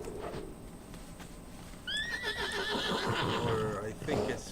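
A horse in World of Warcraft gives a loud whinny partway through, with clip-clopping hooves after it, while someone talks over the game sounds.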